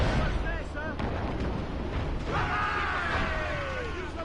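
Ship cannons fire in Assassin's Creed Rogue as a series of heavy booming blasts over dense battle noise and roaring water, with a voice speaking partway through.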